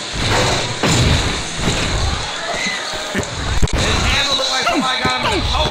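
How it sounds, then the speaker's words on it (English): Basketball slam dunk in the video game NBA Street Showdown, with several loud thuds of ball and rim over a busy crowd-noise background and arena babble, with voices present. "Prodigy with a slam dunk."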